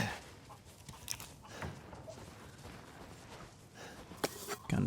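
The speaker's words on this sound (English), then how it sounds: "I hear chickens, and I might want to kill them." Chickens cluck near a shrine in the Resident Evil Village game, short clucks and snorty calls coming in a loose, irregular run at moderate loudness against a busy in-game backdrop.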